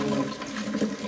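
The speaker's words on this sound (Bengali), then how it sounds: "তো আমি আলুগুলোকে এখন ধুয়ে নিব।" A short burst of water rushing steadily from a tap while potatoes are washed, close and continuous.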